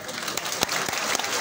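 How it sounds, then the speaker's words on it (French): Applause rings out at an awards ceremony in a hotel, a dense, steady clapping from an audience with a few sharper claps standing out. "je vous prie tout simplement de bien vouloir acclamer beaucoup pour les Bamileke."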